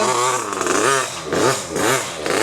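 A motocross motorcycle engine revs loudly and close up in repeated rising and falling bursts, practice runs on a newly fitted bike, with no voices over it.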